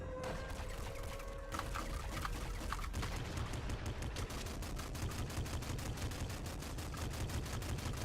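Heavy Revolver gunfire in the video game Nuclear Throne, a rapid stream of loud, sharp shots in steady rhythm over dense game noise, continuing throughout.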